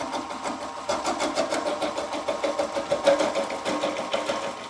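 A lathe turns a pineapple while a tool is pushed into it, making a steady whirring motor hum with a rapid, rhythmic chattering scrape that starts about a second in.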